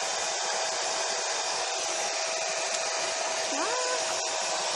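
A hair dryer, held about 20 cm from a parrot being dried after a bath, blows with a constant, loud whooshing hum throughout, close by, with a brief faint squeak or whine partway through.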